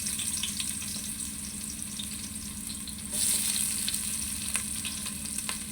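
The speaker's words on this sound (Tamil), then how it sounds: "இப்போ இதில் நறுக்கி வச்ச வெங்காயத்தை போடுறோம்." Chopped onions sizzle and crackle steadily in hot oil, a continuous close frying hiss with a brief louder burst midway, no voices.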